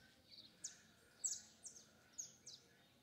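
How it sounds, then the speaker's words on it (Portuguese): Birds chirp and tweet in a quiet, tree-lined small town, with about six short, bright calls coming at irregular intervals over a faint background hum. "Canto dos pássaros."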